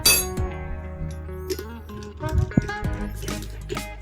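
A pulley and nut are fitted onto a car alternator during a bearing replacement, with close metallic clinks and small taps from handling the parts, alongside faint background noise.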